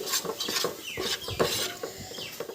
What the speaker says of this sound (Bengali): একদম ফ্লেমটাকে মিডিয়ামে রেখে এবার এগুলোকে শুধুমাত্র নাড়িয়ে যেতে হবে